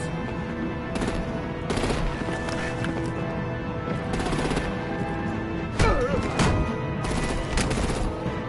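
Gunfire in the video game Batman: The Enemy Within, with repeated bursts of shots over a dense, busy action soundtrack and several louder volleys, with some voices mixed in.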